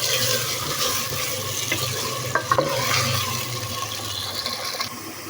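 Taro root (arvi) frying in about half a cup of oil, a steady near sizzle and bubbling with a few sharp clinks of a spoon midway, no speech.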